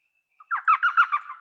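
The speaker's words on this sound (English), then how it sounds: "That is the call of the elf owl." An elf owl gives a quick high-pitched call, a rapid series of yelping, laugh-like notes at close range, heard alone against silence.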